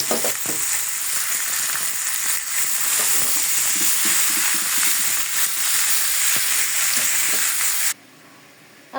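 Leafy greens sizzle loudly in a pan with browned onion, garlic and green chili, a steady dense frying hiss with faint stirring scrapes that cuts off abruptly near the end.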